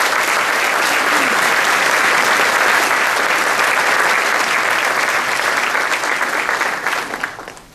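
Audience applause welcoming Secretary Tony Tata at the Wilmington, NC Chamber of Commerce annual meeting: sustained, dense clapping from a large crowd that holds steady for about seven seconds, then fades out.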